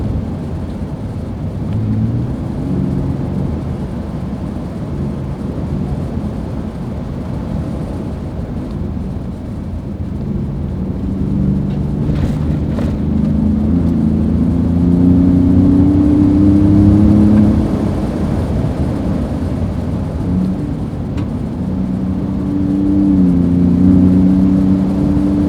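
Roush Ford Raptor truck engine pulling steadily under acceleration, a continuous mid-pitched drone that rises slightly in loudness and pitch over the run, heard from inside the cab with no talking.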